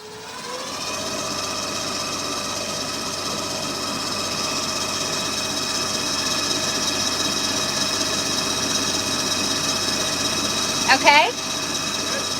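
Electric motor running at full throttle, giving a steady, close, even mechanical whine with a constant tone throughout, and a brief short voice near the end.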